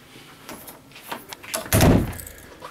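The bathroom door inside a 2015 Jayco Jay Flight 32BHDS travel trailer is opened, giving a short rattle and a firmer clunk near the middle, fairly close and moderately quiet, with no talk.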